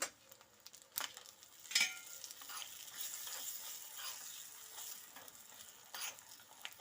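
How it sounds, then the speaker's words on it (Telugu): Spices and dried red chillies sizzling in hot oil for a tempering, a soft continuous crackle with a few sharp clinks and scrapes of stirring, fairly quiet and close. "పోపు ఇలా వేగుతున్నప్పుడు ఎండుమిరపకాయలు వేసేసుకోవాలి"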